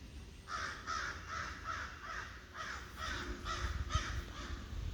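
Crows caw outdoors in a repeated series of harsh calls, about eight evenly spaced caws at moderate distance over a faint background hum.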